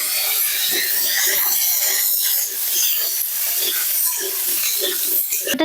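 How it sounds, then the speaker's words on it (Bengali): Lentil dumplings (bori) frying in hot oil in a wok for Bengali lauki shukto give a loud, continuous close sizzle with faint stirring scrapes, ending in a few sharp clatters. "এবার আমি বড়িগুলো কড়াইতে দিয়ে ভেজে নেব।"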